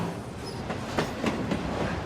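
Short train of about five cars rolling past on tracks in a visual novel video game, with rhythmic clickety-clack wheel beats over a steady rumble and no speech.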